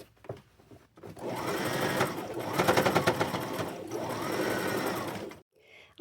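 A sewing machine zigzag-stitching a fabric patch onto thrifted jeans runs in a fast, steady whir for several seconds, close and loud, then stops abruptly with a brief rustle after.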